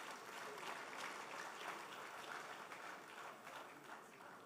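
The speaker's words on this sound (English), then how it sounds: "Give him a big hand of applause." Guests at an executive dinner ball applaud in a large hall. The applause is soft and distant, a continuous wash of clapping with crowd murmur mixed in.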